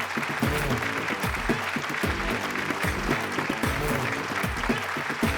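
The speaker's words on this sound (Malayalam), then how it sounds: "നന്നായിട്ടൊന്ന് കൈയടിച്ചേ, നന്നായിട്ടൊന്ന് കൈയടിച്ചേ." Studio audience in a Malayalam TV game show clapping steadily for several seconds, a dense, even patter with voices and background sound mixed in underneath.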